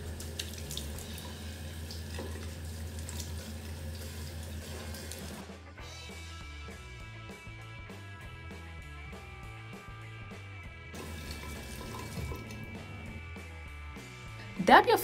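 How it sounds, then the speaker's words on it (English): A bathroom tap runs lukewarm water into a sink for washing the face, a steady close splashing stream that stops partway, leaving quieter sounds before the flow briefly resumes; a voice speaks over parts of it. "go ahead and wash your face with lukewarm water"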